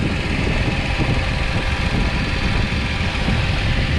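A 2009 Subaru Outback engine idles steadily and close by, a smooth continuous rumble with a faint ticking running through it, no voices.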